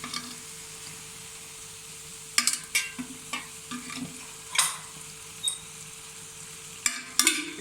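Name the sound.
oil added to beef keema sizzling on tawa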